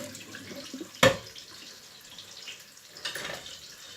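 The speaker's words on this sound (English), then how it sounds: "I'm going to rinse my spoon out" A spoon rinsed under a kitchen tap: a sharp clink, then a brief gush of running water, with a second softer splash a couple of seconds later, close and fairly quiet.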